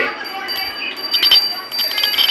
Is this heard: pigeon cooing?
no